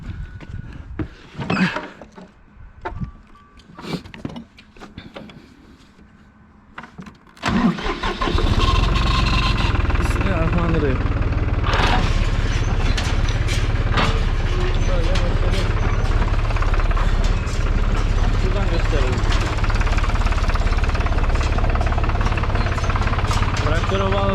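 A tractor powers up and drives a Galignani 5190 hay baler, settling into a loud, steady mechanical drone after several seconds of quieter handling noises and voices.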